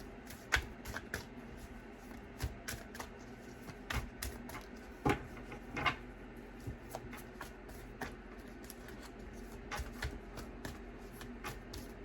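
Tarot cards are shuffled close by in quick, papery riffles and taps, a soft rhythmic series of flicks repeating throughout.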